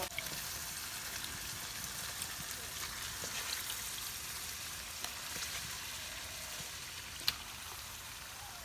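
Meat sizzles in a pan with spices as a Bengali home cook makes mangsho kosha, a steady soft crackle and hiss that holds throughout, with an occasional sharp tick from utensils.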